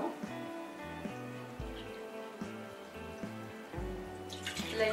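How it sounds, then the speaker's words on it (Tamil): Water is poured into soaked kuthiraivali (barnyard millet) to make kanji, a continuous trickling and splashing pour at close range with no voices. "கொஞ்சம் இதில் தண்ணி 1-4 மடங்கு தண்ணி வச்சுக்க போகிறோம்."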